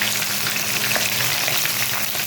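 Sliced tomato strips hitting hot oil in a frying pan over browned onions, giving a steady, loud, close sizzle and crackle that holds without a break and carries no voices.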